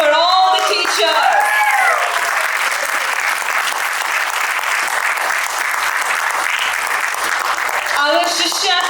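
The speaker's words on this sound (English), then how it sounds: "So one round of applause for all the teachers." A school audience applauds the teachers after a Grade 8 drama performance of Pride & Prejudice: steady, dense applause from a large crowd lasting several seconds, with a speaking voice heard briefly at the start and end.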